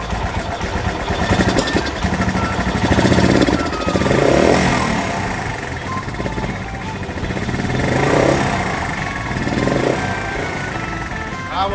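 A Wolf 125 motorcycle on its stock carburetor idles at about 1000 rpm, a steady close-up putter that swells slightly now and then.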